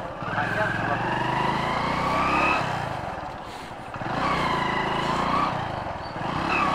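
A motorcycle engine runs after a kick start, a close, rough mid-pitched drone that rises and falls with revs, with someone talking over it.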